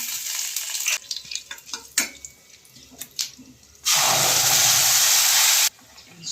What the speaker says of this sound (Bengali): পুরোটাই ফোড়ন দেওয়া পাঁচ ফোড়ন দিলাম